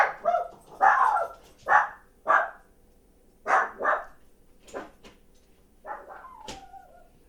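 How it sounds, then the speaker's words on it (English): A dog barks several times in loud, close bursts, a quick cluster of sharp barks followed by a pause, then more barks and a high whining yelp trailing off, with no talking over it. "Ooh, that dog."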